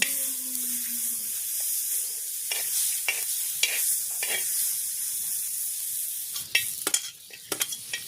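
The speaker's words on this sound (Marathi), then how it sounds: "आता जे भाजून घेतलेलं खोबरं थोडंसं असं कापलं, त्यावेळेस थोडं कच्चं वाटलं, पुन्हा तेल टाकून भाजून घेत आहे" Coconut roasting in oil in a pan for a drumstick curry, a steady near sizzle with a few sharp stirring scrapes and clinks of the spoon against the pan, no voices.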